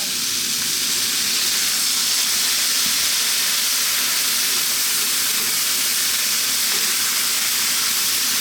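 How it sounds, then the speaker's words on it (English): Continuous loud hissing and sizzling as cold water hits a hot wok of stir-fried pork and vegetables and turns to steam, filling the sound without pause; no voices. "That water's going to steam and help our vegetables on its way a little bit."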